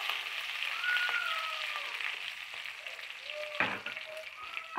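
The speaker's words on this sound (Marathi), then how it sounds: "मिरच्या थोड्याशा फ्राय झाल्या याच्यामध्ये की आपण टाकून घेऊया कढीपत्ता." Green chillies frying in hot oil as curry leaves are dropped in, giving a steady close sizzle with a sharp crackling burst partway through.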